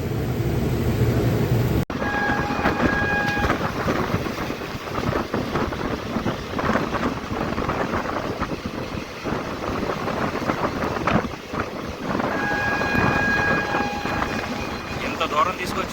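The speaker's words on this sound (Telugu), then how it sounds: "సో మన ట్రైన్ అయితే కేటుగూడ నుంచి మూవ్ అయిపోతుంది అనమాట" A train moves off from the small Ketuguda station on the Rayagada to Koraput line, recorded from a general coach as a continuous rumbling, rattling roar with wind buffeting and brief tonal horn-like tones at times.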